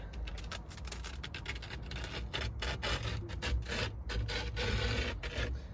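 Skateboard grip tape edge rubbed down hard along a deck, a dense continuous rasping scrape up close with quick uneven strokes throughout, no voices.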